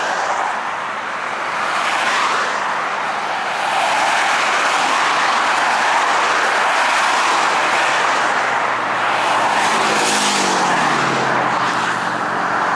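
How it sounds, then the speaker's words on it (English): Steady, loud freeway traffic roars continuously from close by, a broad wash of car and tire noise with a heavier vehicle passing near the end. "here's what the freeway is"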